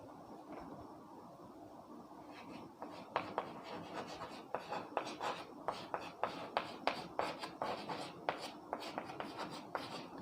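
Chalk or marker writing on a board during a Class 12 physics lesson on Gauss's theorem and flux: a steady series of short scratchy strokes that grows more rhythmic, over a muffled room background.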